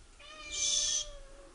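A cat gives one drawn-out, tonal meow that swells in the middle and then fades, heard alone with no talking.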